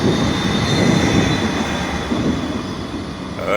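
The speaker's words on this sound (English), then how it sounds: "hear the tram a coming." A tram rolls along street rails in Bratislava, a loud continuous rumble of wheels with a faint high squeal running through it, close by and with no talking.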